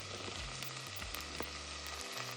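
Peas sauté in a pan for Jamaican rice and peas, giving a soft, steady, fairly quiet sizzle with light crackle, with faint music low in the background.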